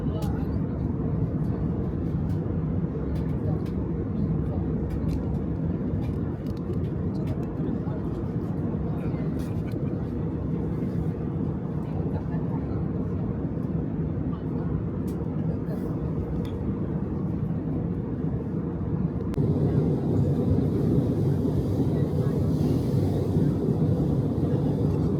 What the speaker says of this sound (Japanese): 飛行機も降下し始めました